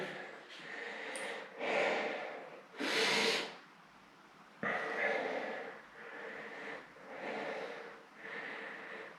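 Several people in a Krav Maga class exhale hard after an exercise: a series of loud, breathy bursts, each about a second long, spaced a second or two apart, close to the microphone.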